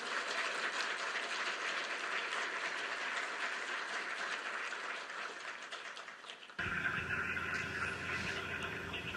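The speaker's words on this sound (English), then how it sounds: "I'm just going to ask the team here in the auditorium for a little round of applause" A team gathered in an auditorium for a space station call gives a round of applause, a dense steady wash of clapping lasting several seconds before cutting abruptly to a different, thinner broadcast sound.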